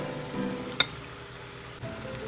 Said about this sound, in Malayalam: മുരിയണ വരെ ഇളക്കി കൊടുക്കാം.